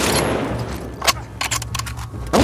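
Rapid gunfire bursts from The Last of Us Part II, several sharp cracks and volleys over a steady low rumble, loud and close with brief pauses between shots.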